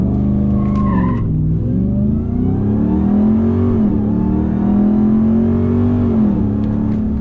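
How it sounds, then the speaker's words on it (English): A RAM TRX pickup launching from a standstill and spinning its wheels, a loud sustained tire squeal over a droning, rising engine heard up close and continuously, with no voices. "It spun up the wheels a little bit."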